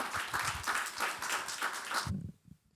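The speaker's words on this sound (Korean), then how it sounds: "큰 박수로 맞이해 주시면 감사하겠습니다" Audience applause at a Korean symposium, a steady wash of clapping filling the hall for about two seconds before cutting off abruptly into near silence.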